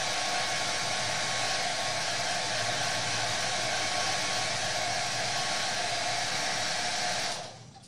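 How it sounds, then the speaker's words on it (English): A hair dryer blows steadily at close range, drying paint on suede roller skates, a loud, constant airy rush that cuts off abruptly near the end. "I'm going to give it a very light blow dry, just so that I could quickly stack another color on top of it."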